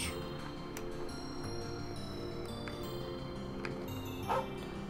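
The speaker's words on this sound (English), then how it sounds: "The doggo." A dog barks in the video game Trails of Cold Steel 2, with a few short yaps set against steady background music.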